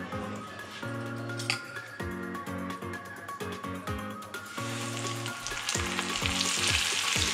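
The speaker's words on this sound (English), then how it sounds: "Let's fry up this fish." Fish sizzles loudly in a hot pan, a constant crackling fry broken by frequent sharp clicks and taps of a utensil, with occasional short tonal bursts in the background.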